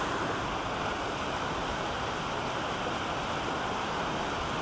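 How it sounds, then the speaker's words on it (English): Bear Creek on the Pacific Crest Trail rushes steadily downstream, a dense, continuous wash of flowing water filling the scene with no voices over it. "And downstream Bear Creek, just absolutely stunningly beautiful."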